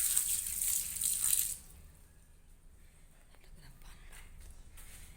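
Water pours onto a potted aloe vera plant in a short, fairly loud hissing splash that stops after about a second and a half, leaving quiet household background with faint voices.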